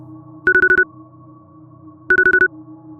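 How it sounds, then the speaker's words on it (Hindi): Mobile phone ringtone sounding as an effect: two quick bursts of five rapid electronic beeps each, separated by a short pause, loud and clear over a quiet low hum. "मेरा फोन बजने लगा।"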